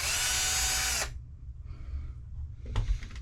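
Power drill backing screws out of a drag car motor, one loud buzzing whir lasting about a second, then quiet handling noises and a faint clunk.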